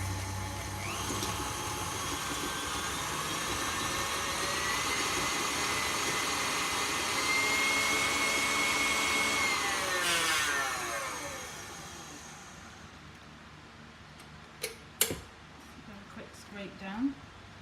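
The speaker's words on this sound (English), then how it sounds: "And then we're just going to give that a good whisk." Chocolate orange brownie batter with butter being whisked, probably by an electric mixer, giving a steady loud whirring drone that rises in pitch partway through, then stops, leaving a few soft knocks and a speaking voice.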